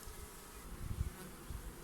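Honeybees buzz around the entrance of a small nucleus hive outdoors, a short, steady low hum with a couple of louder close passes.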